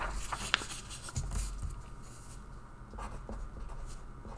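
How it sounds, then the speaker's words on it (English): Pen scratching across paper while a discrete-math lecturer writes out equivalence relations, steady close strokes with brief tapping peaks and no talk. "We'll write this on another paper."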